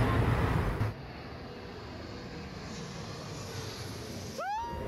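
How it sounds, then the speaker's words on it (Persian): An airplane coming in to land roars past beside a street as a broad, loud rumble that eases after the first second into a steady, more distant drone, with a brief chirp near the end. "کنار خیابون وایسادیم منتظریم هواپیما بیاد این بغل فرود بیاد ما نگاه کنیم"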